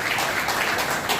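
Steady applause from an audience at an emergency medical services launch ceremony, a dense, even wash of clapping filling the short moment without a break.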